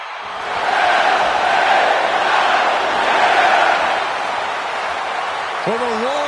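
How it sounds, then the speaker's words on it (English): A wrestling arena crowd roars for L.A. Knight at WWE Clash at the Castle, a dense, loud, sustained wash of cheering that eases slightly near the end as a voice begins. "the roar of the crowd tells you all you need to know"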